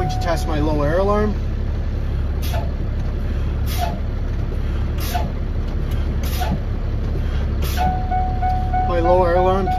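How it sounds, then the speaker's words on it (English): A truck's low air pressure warning alarm sounds during an Ontario air brake test, a steady mid-pitched tone at the start and again near the end, with rhythmic bursts of air between and a voice talking over it. "My low air alarm came on at 65 PSI."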